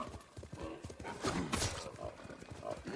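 Horse hooves clip-clopping steadily with a whinny partway through, from a mounted ride in the samurai game Ghost of Tsushima, set against a busy layer of ambient game sound.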